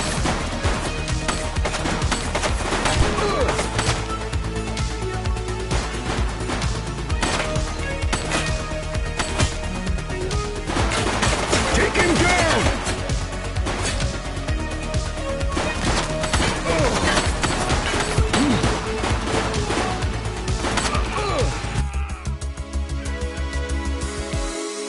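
Gunfire from a shooting suspect in the police game The Precinct, heard as dense, repeated sharp impacts and shots over a loud, continuous backdrop of music and action noise, which cuts off abruptly near the end.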